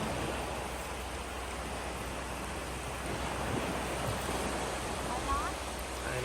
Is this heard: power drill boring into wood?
no